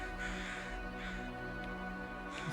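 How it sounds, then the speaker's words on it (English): Crows cawing in the wintry survival game The Long Dark, a few harsh calls rising over a steady, droning ambient music bed at a moderate distance. "Crows don't look. They look like bats to me."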